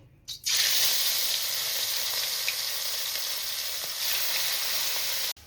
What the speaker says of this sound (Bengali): তেল আমার বেশ গরম হয়ে গেছে এবারে আমি মাছ ভেজে নেব